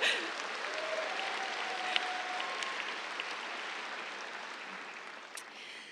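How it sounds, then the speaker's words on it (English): An audience at a computer science commencement ceremony applauds faculty and staff with a steady, even wash of clapping that holds for several seconds and sounds fairly distant. "We can give them a round of applause."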